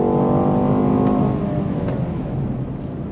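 A 2022 BMW Alpina B8 sedan launching hard from a standstill, heard from inside as a loud rising engine roar with climbing tones that settles into a strong steady drone, no voices over it.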